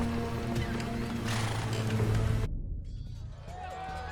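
Horses neigh and whinny in the Age of Empires II game, a loud close whinny with hoof clatter beneath, cutting off abruptly and leaving a quieter tail with a voice narrating.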